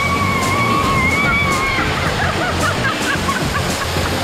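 Loud, continuous rush and splash of cold water pouring and sloshing at a Miami water park, filling the whole clip up close, with a brief high whistle-like tone early on.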